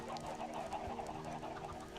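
Minecraft chickens clucking in a survival-world egg farm with hoppers, a steady, busy run of soft repeated clucks and chirps layered together, fairly near, with no talk.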